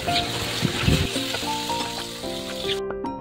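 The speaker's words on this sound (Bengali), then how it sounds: "আজকে আমি এখন রান্না করবো মাছের ঝোল, পাতলা করে আলু দিয়ে টমেটো দিয়ে মাছের ঝোল" Fish curry with potato and tomato cooking in a pan sizzles and crackles steadily up close, with a few stirring scrapes.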